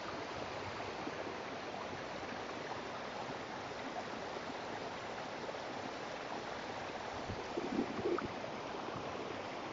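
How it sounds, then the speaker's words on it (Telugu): Water rushing steadily from Bhairavakona waterfall near temple shrines, a continuous broad stream-like roar that stays even and close throughout, with a small splash near the end. "ఈ నీరు ఇక్కడి నుంచి అయితే వస్తున్నాయి, జలపాతం దగ్గర నుంచి"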